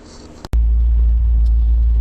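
A warmed-up Chevrolet Corvette with a carbureted engine settles into a loud, steady low rumble at idle after a brief click, heard close from inside the car with no talking.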